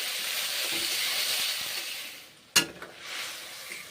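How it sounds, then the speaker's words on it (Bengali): A ground cumin, coriander and chilli spice paste hisses as it fries, then a sharp burst of sizzle erupts when water is poured in, settling back into a softer, steaming hiss. "জল দেবো, এবারে"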